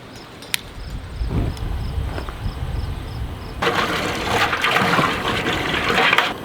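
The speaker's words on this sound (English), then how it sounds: "we're gonna get the pot on there, fill it up with water" A big pot being filled with water beside a propane burner, set up for scalding roosters on butchering day, gives a steady broadband rush that swells louder partway through, with insects chirping in the background.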